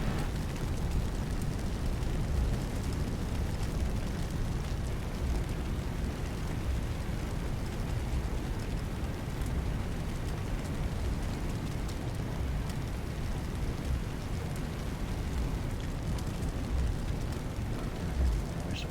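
A house fire burns in a firefighting simulator video game, a steady, loud, dense roar and crackle of flames filling the whole stretch without pause.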